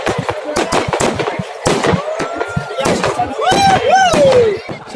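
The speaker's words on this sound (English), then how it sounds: "Later that night, we went to see the fireworks show." A New Year fireworks show in Rome: sharp crackling bursts and whistling rockets that rise and fall, with a crowd talking and cheering throughout.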